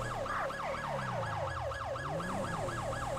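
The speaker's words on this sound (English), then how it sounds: "Listen to the lights and sirens." Wailing siren of a wildlife trooper's police vehicle on an emergency drive, rising and falling in quick regular cycles over the steady rumble of the engine and road noise.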